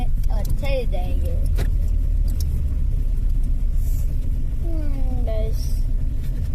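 A car backs up with a low, steady engine rumble underneath while people talk nearby and a few light jangling sounds come through.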